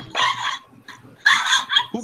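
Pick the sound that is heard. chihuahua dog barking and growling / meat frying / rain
chihuahua dog barking and growling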